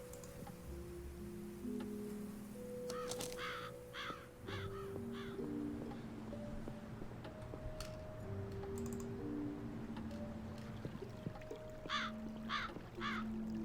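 Crows caw repeatedly in the video game Black Mirror III, harsh calls in spaced bursts over an ambient musical backdrop with a steady clicking like typing.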